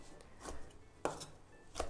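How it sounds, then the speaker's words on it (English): Knife chopping jarred artichoke hearts on a board in a home kitchen, a few sharp, separate cuts spaced unevenly, close and fairly quiet, with no talking. "let's continue chopping these artichokes"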